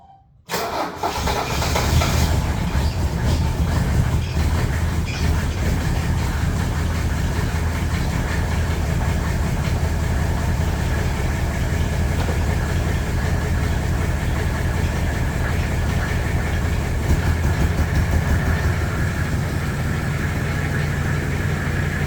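An engine that has gone six years without valve adjustments, cranked by jumping the starter solenoid, cold-starts within a second and then runs at a steady, loud, rough idle for the remainder of the clip.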